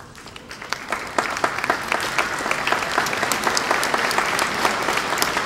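Audience at a 2012 summer college commencement applauds with loud, crisp individual claps that start sparse and quickly build into steady, dense clapping.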